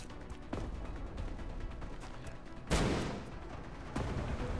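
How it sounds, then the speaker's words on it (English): A flashbang grenade detonating in the video game XCOM: Long War: one sudden, loud burst over a steady game background that fades out over about a second. "Flashbang both of them"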